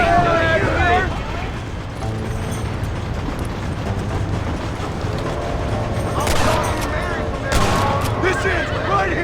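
Gunfire in Red Dead Redemption, with loud bursts of shots over a dense game soundscape, stronger sharp volleys near the end, and voices talking throughout.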